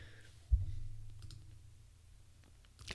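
A single mouse click on a computer's send button while moving ETH from a MetaMask wallet, one sharp quiet tap over a low steady hum and no talking.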